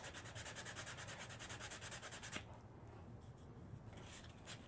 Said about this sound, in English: Now, this is plastic, and it shouldn't be very hard to just sand the Nerf off.